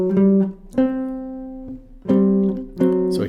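An acoustic guitar plays a few short phrases of a jazz standard with a swung rhythm, clear ringing chords and notes plucked in close succession and left to decay, with no voice over them.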